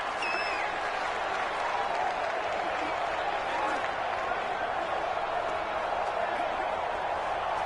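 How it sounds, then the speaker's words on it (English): Simulated stadium crowd roar in the Madden 20 video game during a 1975 Raiders vs Steelers AFC Championship rematch, a steady dense wash of cheering and applause throughout with a few faint whistles near the start. "The crowd's not doing that O-line any favors."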